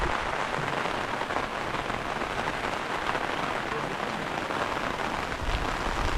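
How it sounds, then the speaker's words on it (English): Steady light rain patters continuously on surfaces nearby in an African village, an even hiss of drops with no pauses and no voices. "It's raining here in my village."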